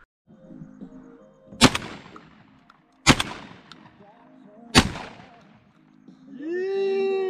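Three loud, sharp shotgun blasts ring out at even intervals during a dove hunt in Arizona, each one cracking and then decaying quickly. A brief tonal sound follows at the end.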